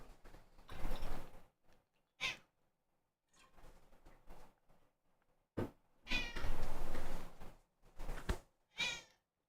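A cat meows several times in a quiet room, the calls rising in loud, drawn-out bursts with pauses between them, close to the recording point and alone without speech.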